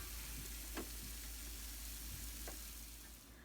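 Chicken filling sizzles steadily in a pan on the stove, a soft continuous frying hiss with a few light stirring scrapes, close and quiet, with no talking.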